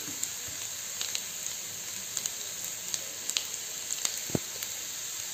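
Onions fry in a pan for a gongura soya curry, making a soft, continuous sizzle dotted with small crackles and pops, close and alone with no voices.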